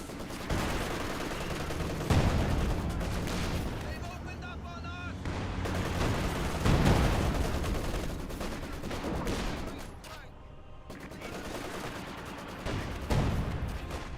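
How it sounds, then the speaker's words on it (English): Sustained rattling bursts of machine gun fire mixed with booming battle explosions in the Company of Heroes 2 strategy game, loud and continuous, with a commentator's voice running over the combat. "Penal Squad getting suppressed by the MG."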